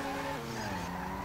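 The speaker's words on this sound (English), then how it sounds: "I think I hear a car pulling up" A car engine in the video game GTA V drones steadily, tones shifting slightly as it pulls up, with no talking over it; a short, continuous mechanical hum.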